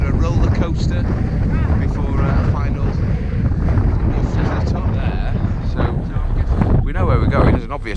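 Strong wind buffets the microphone on a mountain ridge, a loud continuous roar with gusts, while a person talks over it.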